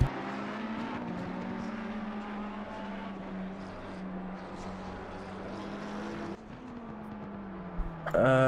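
A lime green McLaren GT3 race car in Assetto Corsa Competizione roars past on track, its engine a sustained high-revving drone that drops in pitch as it passes, then cuts sharply near the end.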